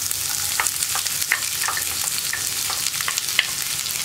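Chopped ginger and onion sizzle in hot coconut oil with popped mustard seeds, a steady close frying hiss with scattered crackles and spits, no talking.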